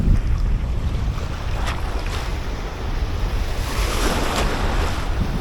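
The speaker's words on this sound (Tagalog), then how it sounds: "Binibira ako ng alon." Ocean waves break and wash against the shore during fishing by the sea, a loud, continuous roar of surf with gusts of wind buffeting the microphone.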